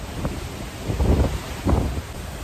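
Wind gusting across an open deck on a Carnival cruise ship at sea, a low rumbling buffet against the microphone that swells in a few strong gusts.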